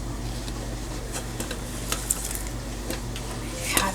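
Onions and peppers sizzling steadily in a pan for a marinara sauce, a continuous low frying hiss with a few soft clinks and stirring scrapes.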